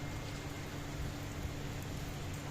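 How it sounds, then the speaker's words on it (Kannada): Steady, even rain falls outside a hotel in Japan on a cold day, a dense unbroken wash of noise with a low rumble beneath, no voices. "ಮಳೆ ಬೀಳಾಕತ್ತದ."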